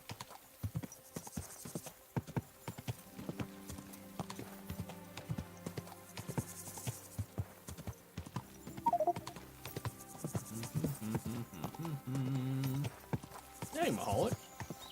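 Horse hooves clip-clopping at a gallop in a video game, a rhythmic patter under game sounds and music, with a neigh near the end and a player talking over it.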